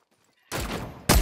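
Gunfire in a shooter video game: two sharp, loud shots, a longer burst followed by a second abrupt blast, after near silence.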